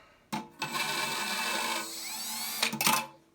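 A power screwdriver spins a bit while driving screws, giving a steady whining motor run of about two seconds that shifts in pitch, followed by a few short bursts, close by and with no talk.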